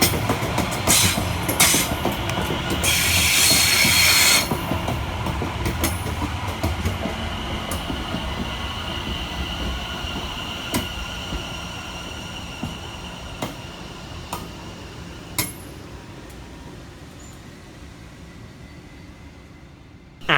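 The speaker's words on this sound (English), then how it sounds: "Arriving next into the station is 710-111 and 710-120, working the 1237 London Overground service from London Liverpool Street through to Enfield Town." Two London Overground Class 710 electric trains arriving at Bruce Grove station, with a loud rumbling approach, rhythmic wheel clicks over rail joints, brief squeals, then a gradual slowing and quietening, no talk.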